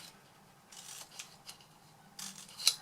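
Scissors snip along the edges of paper, a few quiet, short cuts spaced irregularly with a sharper snip near the end, faint and close with no talking.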